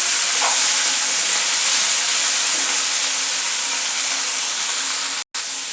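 Curry leaves sautéing in a hot pan as a loud, continuous steam-like hiss that holds steady throughout, broken by a brief dropout near the end, with no voices.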